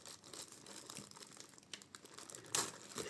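Plastic packaging around a 1/6 scale figure's helmet crinkles and crackles up close, with a louder tearing rustle near the end, with no voices.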